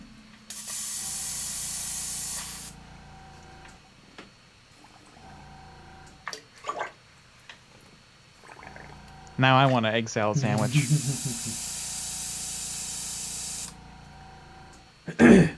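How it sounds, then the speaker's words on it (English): An airbrush hisses in two long spray bursts while being cleaned after painting miniatures, with bubbling, gurgling water between the bursts and someone talking briefly in between. "Perfectly clean airbrush even after 4 colors."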